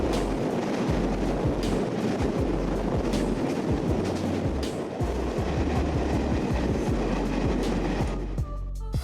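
An Indian Rajdhani Express train rolls loudly and continuously on the rails, with steady rumbling and repeated clickety-clack wheel beats over joints throughout.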